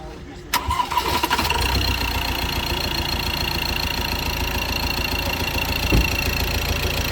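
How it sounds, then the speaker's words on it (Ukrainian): Engine of a commercial vehicle with an unwashed motor, rated about 92 kW, at a used-car market: a short crank, then the engine catches and settles into a steady, loud idle, with people talking nearby. "Ось зараз заведуть двигуна."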